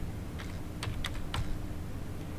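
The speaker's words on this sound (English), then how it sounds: "We're going to type the following command: export" A handful of sharp key clicks on a computer keyboard while a netsh export command is entered, a few isolated taps over a steady low hum, close and fairly quiet.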